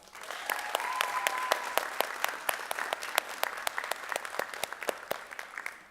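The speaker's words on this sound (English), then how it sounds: "Please help me congratulate our newly elected Executive Council with a round of applause." Applause for a newly elected executive council at a high school honor society induction ceremony, a dense crowd clapping steadily for several seconds with sharp individual claps standing out, filling the hall.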